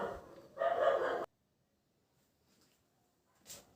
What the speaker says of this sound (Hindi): आपको थोड़ा बैकग्राउंड में एक आवाज सुनाई दे रही होगी कुत्तों के भौंकने की